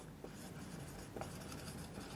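Writing on a board during a lecture on brick work estimation, a steady scratchy scrawl running the whole time with a couple of firmer strokes, close and without talk.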